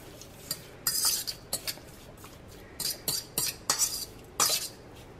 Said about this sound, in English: Try to get all your seasonings really good and mixed in.